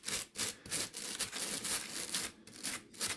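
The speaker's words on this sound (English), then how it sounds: "I can just start working this with this brush down through here." A stainless steel brush scrubs and picks at foam in quick rhythmic strokes, about a dozen close, raspy bursts separated by brief pauses, with no talking.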